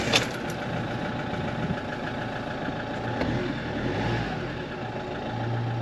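A diesel car engine fitted with a BSR engine optimization unit idles steadily, a continuous low rumble with a slight rhythmic knock and a short click at the start, heard up close without talk.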